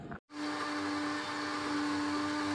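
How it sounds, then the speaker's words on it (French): An electric blender whirs into a steady, loud, droning hum with a faint tonal whine while mixing batter, starting after a brief silence and running without pause or talking. "Maintenant, on va mixer tout ça."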